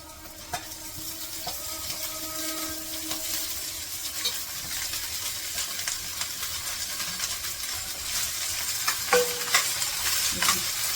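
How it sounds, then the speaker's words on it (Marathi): Peas and potatoes sautéing in a pan give a soft, continuous sizzle with occasional stirring scrapes and clinks, fairly quiet and close, with no talking. "भाजी पण अशी जरा परतून घ्यायची"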